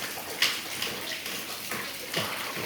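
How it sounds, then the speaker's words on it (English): Rainwater pours in through an air conditioner into an apartment during a hurricane storm, a soft steady splashing and trickling with a few brief louder splatters, fairly quiet and close. "Pouring in from the AC."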